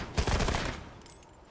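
AK rifle firing fully automatic in a video game: a brief rapid burst of loud close shots lasting about half a second, then fading into quiet.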